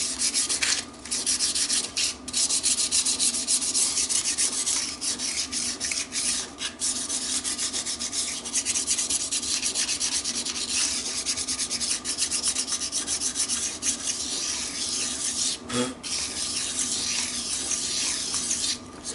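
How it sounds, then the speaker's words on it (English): A BSA B25 Starfire engine part being rubbed down with abrasive, giving a continuous, rhythmic scratchy hiss with brief pauses between strokes, close and fairly loud. "Just another slight rub."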